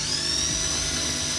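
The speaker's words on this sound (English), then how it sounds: "Now we're going to put this drill in the middle of the cross that we just made, and then start drilling." A power drill boring a hole through a heat gun holder, a steady high-pitched whine held close and alone throughout.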